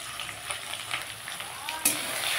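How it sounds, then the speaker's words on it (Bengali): Ginger garlic paste sizzles and fries steadily in a pan while cooking dry cabbage, a continuous close hiss with a slightly louder surge near the end. "ভালো করে আদা রসুনটাও আমি ভেজে নেব"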